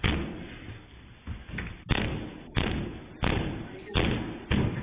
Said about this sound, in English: Look at him kicking the door in.